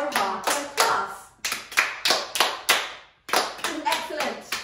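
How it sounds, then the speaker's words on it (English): A class of children claps name rhythms in quavers and crotchets during a basic music lesson, with sharp group claps in short patterned bursts and a clear pause before the final phrase. Voices chant along with the clapping. "Let's clap hero's name all together"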